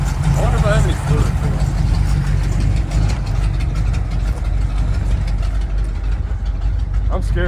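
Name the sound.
Ford Mustang drift car engine idling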